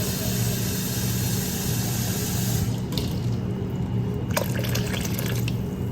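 More water poured into a bowl of djon djon black mushrooms, a continuous close stream of running liquid with a few brief splashy bursts toward the end, no talk over it.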